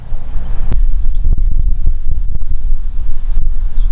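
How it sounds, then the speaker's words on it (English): Strong right-to-left wind on a disc golf course, buffeting the microphone in a loud, constant low roar with gusty thumps throughout, no voices. "A lot of right to left wind here. Wind's really starting to pick up."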